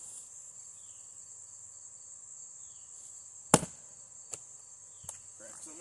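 A roughly 3-pound WC Kelly Perfect jersey pattern axe with a 32-inch handle splits maple: one sharp, loud crack of a blow, then two lighter knocks, all over a steady background drone of crickets.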